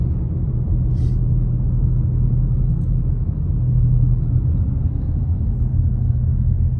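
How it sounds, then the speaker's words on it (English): Road traffic rolls past near Big Bear Lake, California, on a winter morning after a small storm, a constant low rumble of tires and engines with no pauses. "Traffic is moving."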